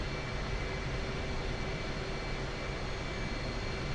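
An F/A-18C jet taxiing in the DCS flight simulator, a constant loud engine drone with a steady whine running throughout and no voices.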